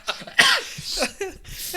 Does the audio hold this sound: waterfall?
no